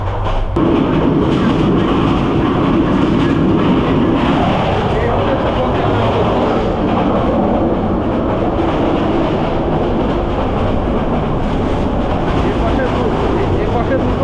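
Inside the Sonar Bangla Express, a luxury nonstop intercity train, a loud, unbroken rumble and rattle of the running carriage fills the space near the toilet compartment.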